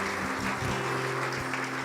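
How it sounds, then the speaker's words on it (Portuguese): A church congregation claps in praise during a Portuguese-language service, a dense steady wash of applause lasting under two seconds, with a low organ or keyboard drone sustained underneath. "aplauda o Senhor"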